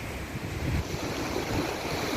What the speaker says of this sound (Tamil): எவ்வளோ வருஷம் கழிச்சு இப்படி ஓடுது என்னையா தண்ணி?